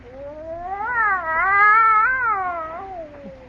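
A cat caterwauls in one long, loud, wavering yowl that swells in the middle and trails off, close by in a silent house during a Halloween horror radio drama.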